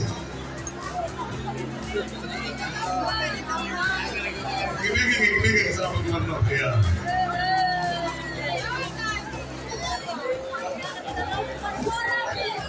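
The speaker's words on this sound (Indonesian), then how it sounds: "di sini kuda kita" A horse neighs amid a busy outdoor crowd at a community fun walk in Jeneponto, its whinny rising over steady chatter, people talking and children's voices throughout.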